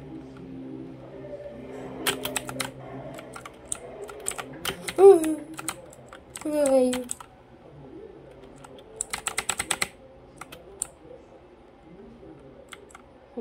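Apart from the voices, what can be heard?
computer keyboard typing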